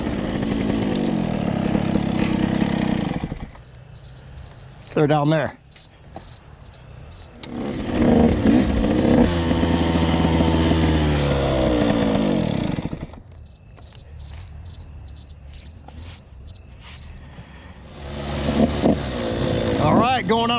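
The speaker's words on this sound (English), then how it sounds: "It's time for crickets." Crickets chirp in loud, steady pulsed trills outdoors on the north side of Croom in autumn, the chirping coming in two long stretches between bursts of nearby motorcycle engine noise, with a few spoken words.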